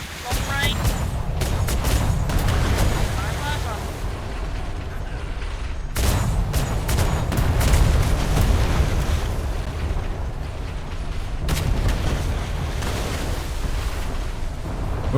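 Broadside cannons fire at a brig in a multiplayer naval video game, producing three heavy booming volleys with rolling rumble and crackling debris, while players talk over the battle.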